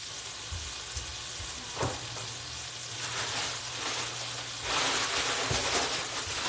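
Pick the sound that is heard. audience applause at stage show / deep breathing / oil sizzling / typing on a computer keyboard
oil sizzling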